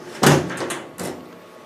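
An Acti9 electrical enclosure door is unlocked by turning its catch and then swung open, giving a sharp close clack, then lighter rattles and a softer knock, all within about a second.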